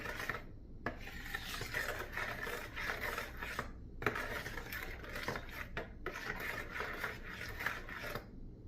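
Focaccia dough mixed by hand in a bowl, giving a steady run of soft rasping, rubbing and scraping strokes, close up and with no voices.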